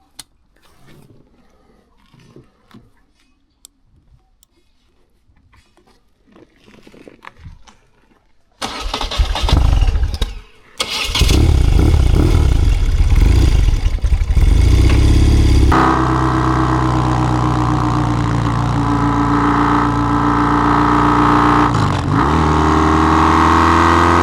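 A BMW R100 GS Sport-Evolution motorcycle with a 979cc boxer engine: quiet handling noises, then the starter cranks and the engine catches and runs, settling into a loud, steady, close rumble as the bike moves off.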